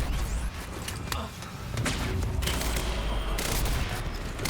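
Rapid bursts of gunfire from a tactical SMG in the shooter game Quantum Break, dense and loud, with booming impacts layered through the action.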